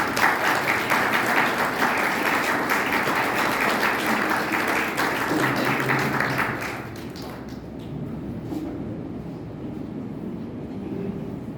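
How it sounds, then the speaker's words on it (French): An audience at a conference-debate on slavery in France claps loudly and continuously, then the applause thins and fades toward the end. "je vous demande de tenir d'applaudissements pour M. Christian Jean-Etienne et M. Emmanuel Josse"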